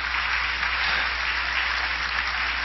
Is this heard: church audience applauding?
yes